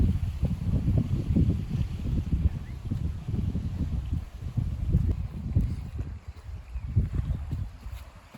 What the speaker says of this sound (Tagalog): Mahangin siya, sobrang lakas ng hangin.